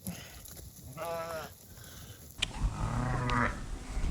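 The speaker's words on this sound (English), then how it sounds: "More sheep." Sheep bleating on a farm during lamb weaning, with a few drawn-out wavering calls, one nearby and others slightly farther off, over a low rumble of outdoor background noise.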